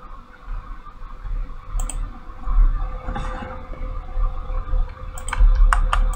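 A computer mouse clicks a few times while a 2D shooter game is tested: a single click near the start, then a quick cluster of sharp clicks toward the end, over a low steady room hum.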